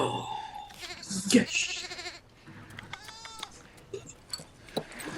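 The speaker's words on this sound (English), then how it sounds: "I love that goat." A goat bleats in a Shadow and Bone episode, a few wavering harmonic calls in the middle of the clip, with someone talking and exclaiming over it before and after.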